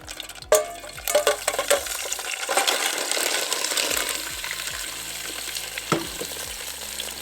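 Oysters fry in melted butter in a pan, a steady close sizzle broken by clinks and stirring knocks against the metal.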